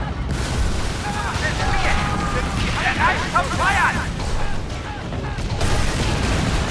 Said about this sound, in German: eine fette Breitseite in das kleine Schiff